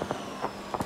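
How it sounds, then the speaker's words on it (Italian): Fireworks go off over a stadium in the F1 22 racing game at the Mexico race: several short, crackling bursts at a steady pace over a constant background hum. "Fuochi d'artificio, si illumina lo stadio per..."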